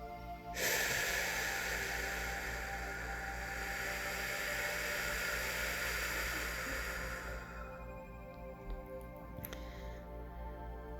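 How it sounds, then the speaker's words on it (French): A long, slow exhale pushed out as if through a straw, a steady close breathy hiss that holds for several seconds before fading, with no talking over it. "Expire comme dans une paille."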